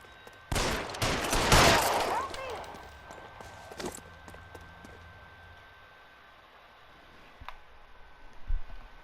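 Gunfire in L.A. Noire erupts in a loud, close burst of shots, then fades into a quieter scene with a few scattered later impacts.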